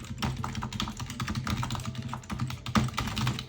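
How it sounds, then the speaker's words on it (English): Typing on an old wireless office keyboard, a continuous fast run of light plastic key clacks, close and alone with no voices. "I thought it would be fun to try an old wireless keyboard that you usually see in the office"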